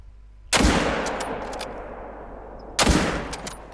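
Two loud hunting-rifle shots in the Call of the Wild hunting game, each a sharp crack with a long rolling echo, spaced a little over two seconds apart with no talk.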